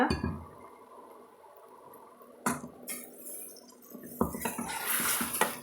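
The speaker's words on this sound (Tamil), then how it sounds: "தண்ணி சேர்த்து நல்லா கலந்துக்கலாங்க" Water is poured into a pot of drumstick white kurma and stirred, giving splashes and clinks of a utensil against the pot that grow busier toward the end, with no one speaking.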